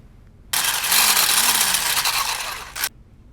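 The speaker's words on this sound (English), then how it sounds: "Put heavy cream, powdered sugar, add vanilla and sour cream in parts and beat with a mixer." An electric mixer beats heavy cream, powdered sugar, vanilla and sour cream, switching on abruptly into a loud, steady whirring whine with a wavering motor pitch, running about two seconds before cutting off.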